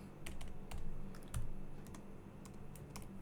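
Brief, close bursts of computer keyboard typing as Python string concatenation code is entered, with a handful of crisp key clicks spaced unevenly over a quiet room.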